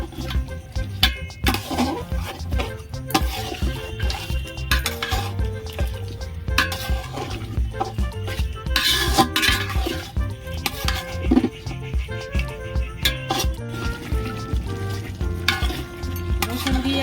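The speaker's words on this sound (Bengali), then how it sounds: "রসুনটা আমি দিয়ে দিয়েছি কিছুক্ষণ এইভাবে কষিয়ে নেব" Garlic paste stir-frying in a pan for mutton curry, a steady loud sizzle with repeated scraping and stirring of a utensil against the pan throughout, no talking.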